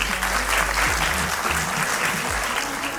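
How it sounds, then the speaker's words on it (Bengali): Loud applause from an audience at an annual academy show and felicitation, continuous clapping filling the room with a low hum underneath. "সবাই একটু জোরে হাততালি"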